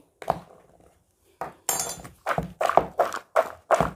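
Carrots being stirred with salt, chili powder and turmeric in a bowl for homemade carrot pickle, giving a run of close, rhythmic clinks and thunks about every third of a second after a brief pause.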